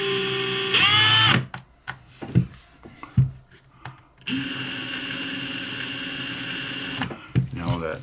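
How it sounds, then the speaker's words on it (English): A power drill bores into a Win gas lighter in short bursts, with a sustained whining run at the start and a longer steady drilling stretch later, separated by clicks and handling noises. "I just need it drilled to the depth, just enough to get a stopper in there."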